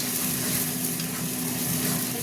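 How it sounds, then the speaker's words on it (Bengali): Spice paste sizzles steadily in a pan after salt is added, a close, continuous frying hiss with faint stirring and no voices. "মশলাটা কষা হতে থাকবে।"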